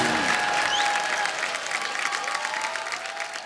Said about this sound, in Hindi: इसके लिए तो पहले तालियां बनती है।